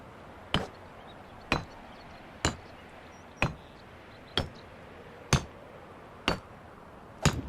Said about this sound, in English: And literally, you just hammer it in there.